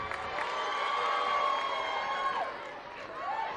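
Crowd at a dance gala cheering and clapping, a sustained wash of applause and shouts from the audience, with a whistle-like tone and voices mixed in.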